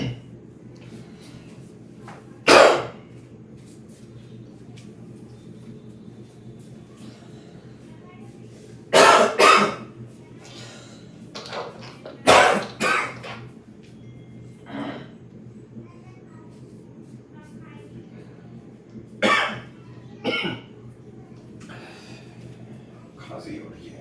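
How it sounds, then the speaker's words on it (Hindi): A man coughs and clears his throat in short bursts at intervals during a physics lecture, the sounds close and fairly loud against a faint room hum. "खांसी हो रही है यार।"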